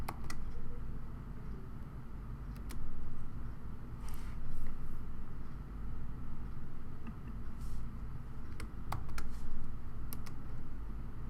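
Faint, irregular clicks of keys being tapped on a computer keyboard, scattered sparsely over a steady low background rumble.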